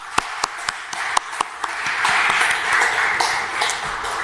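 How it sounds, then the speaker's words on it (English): Applause from a conference audience at a blockchain technology meetup, starting with a few sharp separate claps that swell into a steady, moderately loud ripple of clapping. "with a huge round of applause."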